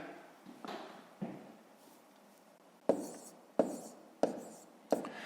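Numbers are written by hand during a fifth-grade multiplication exercise, heard as soft taps and scratches of a pen on paper in a few close, separate strokes, louder toward the end.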